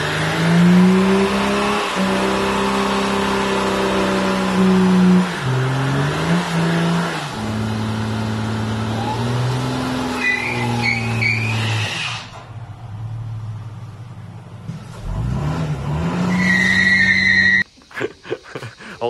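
A car does a skid, its engine revving hard and loud with shifting pitch while tires squeal, then the revs drop away, return in a short burst and cut off abruptly.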